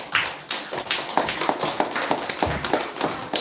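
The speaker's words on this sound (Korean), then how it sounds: "박수해 주시고" A church congregation claps during a Sunday morning service, with sharp, uneven bursts of hand claps from a group that rise and fall in rough rhythm.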